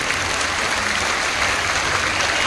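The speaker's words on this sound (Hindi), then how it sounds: "जोरदार ताली बजा करके पूज्य महाराज श्री जी को प्रणाम करें।" A large crowd at a Hanumant Katha religious gathering in Kurukshetra claps loudly, a dense, even roar of applause sustained for a few seconds.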